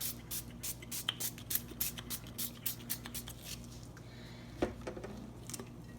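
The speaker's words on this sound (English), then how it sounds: "with that alcohol that I have in this little spray bottle, and I'm just going to give this a nice little mist." Quick, rapid spritzes from a small spray bottle misting alcohol onto a tumbler, a run of short hissy bursts followed by a few scattered later sprays, close and fairly quiet.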